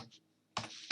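A few faint, quick clicks of typing on a computer keyboard on Windows, with a brief pause between light taps and no talking.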